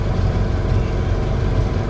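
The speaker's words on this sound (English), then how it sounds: "Leave the car running." A car engine is left running at a roadside police checkpoint, producing a steady, close, low rumbling idle with no speech over it.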